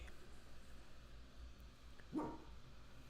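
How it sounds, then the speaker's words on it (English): A border collie lets out a single short bark, faint and somewhat distant, in an otherwise quiet room with a low steady hum. "And there's the dog."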